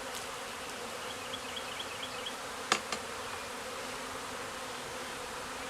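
Honey bees buzzing around a hive during a swarm check, a steady droning hum throughout with a couple of brief sharp knocks near the middle, no talking.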